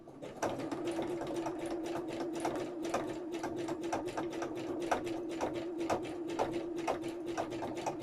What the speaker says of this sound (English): So I'm just going to do the bulk of the machine stitching